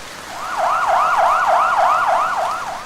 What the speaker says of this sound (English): an ambulance winded through the crowded streets of the town of Wolf Creek